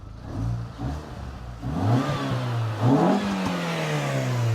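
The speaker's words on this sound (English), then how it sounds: "Give her a few more little revs here." A high-mileage Mini Cooper with a modified air intake revs up repeatedly nearby, its engine note climbing and falling in several short bursts before holding at a steady raised drone.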